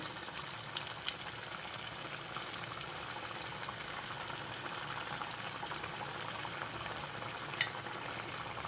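Corn and jaggery vadas fry in oil over the stove, making a soft, steady bubbling sizzle that stays fairly quiet and even, with a faint click near the end and no speech.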